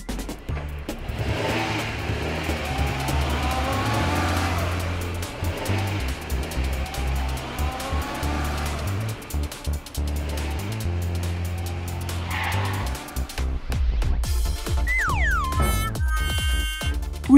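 Cartoon monster truck engine revving loudly over a thumping music score, with rising whine sweeps and a burst of acceleration near the end as it drives off; no talking.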